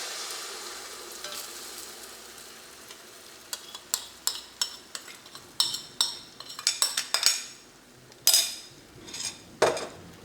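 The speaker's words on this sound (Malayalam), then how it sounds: "ഇനി ഇത് കൊത്തി പൊരിച്ചെടുക്കണം." Egg mixture with raisins being stirred and fried in a pan, a run of sharp utensil scrapes and clinks against the metal over a soft steady sizzle, with no voices.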